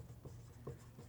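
Pen scratching across paper as a geometry problem on a cyclic quadrilateral is written out in a maths lesson, faint soft strokes in a steady rhythm, close by, with no talking.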